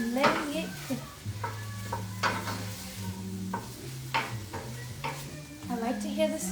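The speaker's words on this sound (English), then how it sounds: "I like to hear the sizzle sound." Plant-based sausages frying in a pan during preparation of vegan Spanish rice, with a steady sizzle under clattering stirring utensils scraping the pan in irregular bursts, close and moderately loud.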